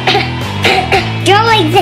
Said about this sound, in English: Step one, fake cough.